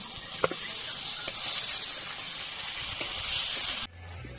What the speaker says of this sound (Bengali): এবার দিচ্ছি পেঁয়াজ কুচি গুলো কষিয়ে নেব